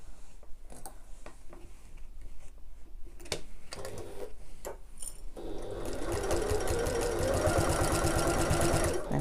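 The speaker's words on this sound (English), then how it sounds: "Add a couple of clips just to hold it in place, and then we're going to baste that into place." Sewing machine basting a backpack flap in place, a few short bursts of stitching and handling clicks followed by a longer, steady run of rapid needle chatter, close and clear.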